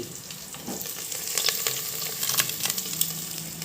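Hot tempering sizzles and crackles up close as it is poured into drumstick sambar, with a steady hiss broken by sharp little pops and spatters.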